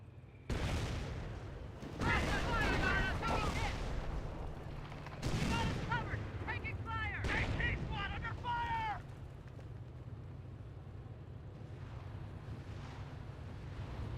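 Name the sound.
half-track rocket barrage in video game Company of Heroes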